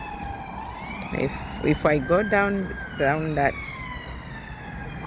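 A police car siren wails at a distance, rising and falling faintly over steady street background while someone talks nearby.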